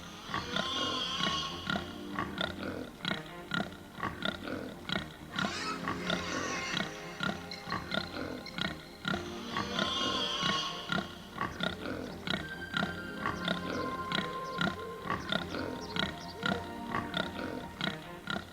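Pigs grunt and oink continuously, a busy chorus of overlapping snorts and squeals close by, steady and loud throughout.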